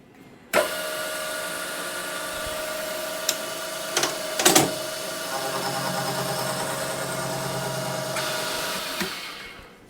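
An Emco Super 11 lathe cuts gear teeth with an indexing plate, a steady whirring machine drone with a high tonal hum starting abruptly, a few sharp clicks and clunks midway, then tapering off near the end.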